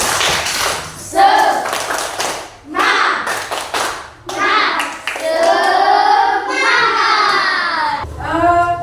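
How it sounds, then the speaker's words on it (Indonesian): Classroom children perform a rhythmic spirit clap, chanting in unison between sharp bursts of hand claps in a patterned beat, close and loud, with young voices carrying most of the rhythm. "Ayo kita tepuk semangat."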